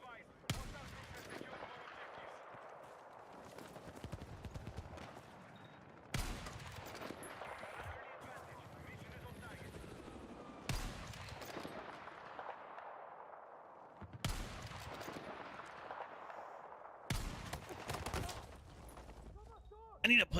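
Gunshots in a video game shooter ring out as single sharp reports spaced several seconds apart, each with a short decaying echo, over quiet background ambience and some talk.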